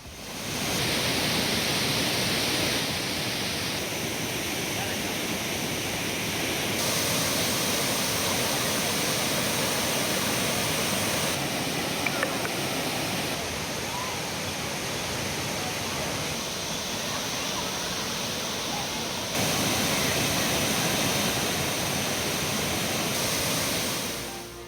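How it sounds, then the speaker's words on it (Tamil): Water gushing hard down Thirparappu waterfall in Kanyakumari district, a loud, steady, dense roar that continues unbroken throughout with no voices. "குமரி மாவட்டம் திருப்பரப்பு அருவியில் தண்ணீர் ஆக்ரோஷமாக கொட்டுவதால்"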